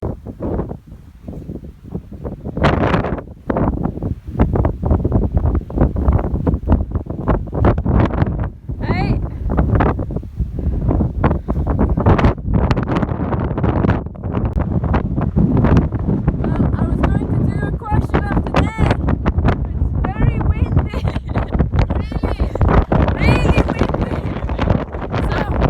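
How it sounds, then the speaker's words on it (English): Strong wind roars and buffets the microphone continuously on a hike, loud and rough throughout, with occasional gusts pushing it louder. "it was so windy I could barely even hear myself thinking"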